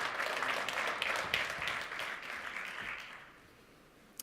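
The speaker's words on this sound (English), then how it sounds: "Give him a warm applause." A conference audience applauds warmly for a speaker, a dense patter of many hands clapping that gradually fades out.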